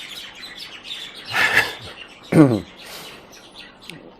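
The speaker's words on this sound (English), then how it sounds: "birds have a conference" Birds chirp outside a shuttered, windowless building, with two or three short, bright bursts of tweeting against a quiet background and a brief murmur of voice.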